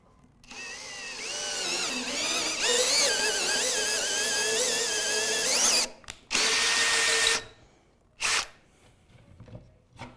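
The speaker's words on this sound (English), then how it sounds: "I'm going to finish drilling that hole now." A power drill whines steadily for several seconds as it bores through wood, stops, then runs in two more short bursts, close and loud.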